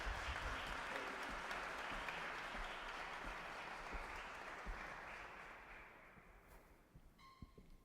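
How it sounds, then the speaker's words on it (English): Audience applause in a hall at a peace ceremony in Sarajevo City Hall, a dense wash of clapping that gradually fades and thins out, ending with a few scattered claps and faint noises. "another round of applause."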